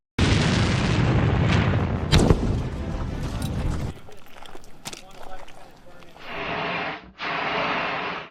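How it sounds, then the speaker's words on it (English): Explosive ordnance detonated by a bomb disposal team in Kosovo sets off a loud, close blast with a long, rumbling roar that slowly fades, followed by quieter noises and a couple of bursts of wind or handling noise near the end. "We try to dispose of everything by detonation."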